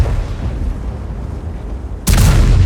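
A low rumbling engine hum, then an abrupt loud tank cannon boom that leaves a heavy roar lingering to the end, from the VK 72.01 (K) heavy tank in World of Tanks.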